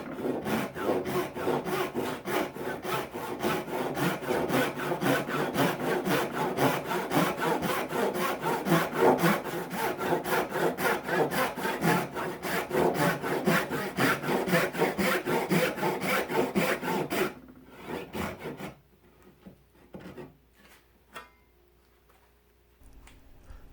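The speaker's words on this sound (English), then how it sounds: "Let's try a couple of tails." A Florip Toolworks dovetail saw cuts tails in wood with rapid, rhythmic rasping strokes, close and steady for about seventeen seconds, then stops, leaving quiet handling noise.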